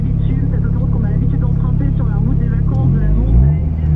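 Race car engine idling and revving at the start of a hill climb run, a loud rumbling drone that swells into a deeper surge as it pulls away, with a voice talking over it.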